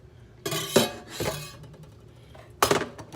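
Dishes and utensils clink and scrape while a kitchen workstation is being cleaned up, three separate clattering bursts of ceramic and metal close by with quiet gaps between.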